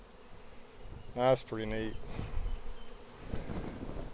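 Honey bees buzz in a crowded hive during a transfer from a deep nuc to a double deep box, a soft hum beneath a person speaking briefly nearby.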